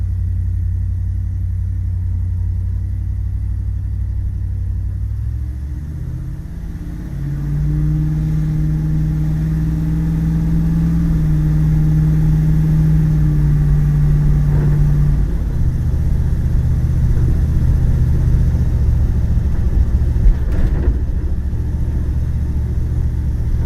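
A 1976 Chevrolet Impala wagon built on 26-inch wheels with Holley EFI, its engine rumbling steadily on a test drive, with a deeper drone swelling midway as it accelerates, heard from inside the car without talk.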